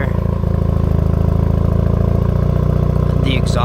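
A 2008 Dodge Caliber SRT-4 engine idles steadily with a low, even exhaust rumble, loud and close, holding a constant drone throughout with a brief higher rattle near the end; no one speaks.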